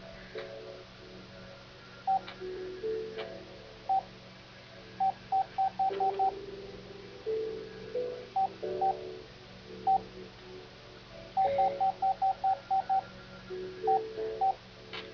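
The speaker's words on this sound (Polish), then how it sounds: "a ja sobie ustawię w telefonie stopera" Short electronic phone keypad beeps sound while a stopwatch is set on a mobile phone, coming in scattered single tones and quick rapid runs over a quiet background hum during a Minecraft session.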